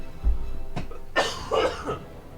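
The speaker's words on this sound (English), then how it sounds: "I've still got this nasty-ass cough that just won't go away" A single sharp cough from a commentator casting a StarCraft 2v2 tournament, followed by a short burst of throaty coughing, close to the microphone with no other talk.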